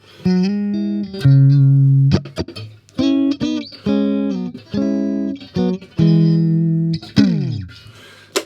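Electric guitar on the middle pickup position plays a series of clean, bright, Strat-like single notes and short phrases with gaps between them, ending with a downward slide.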